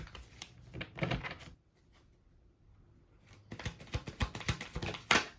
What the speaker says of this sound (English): Okay, so one more shuffle.